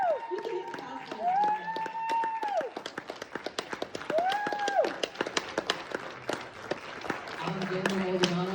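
A school showcase crowd at Steelton Highspire High School claps and cheers in scattered sharp bursts, with whoops and voices rising over the applause and a voice speaking near the end.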